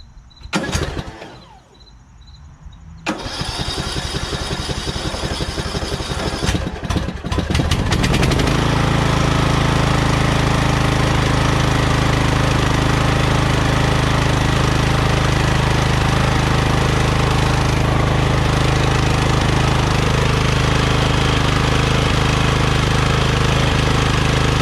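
A lawn tractor with a bypassed safety and kill switch wiring setup cranks briefly, then its small engine catches and settles into a loud, steady, rumbling run that continues to the end, close by and with no voices.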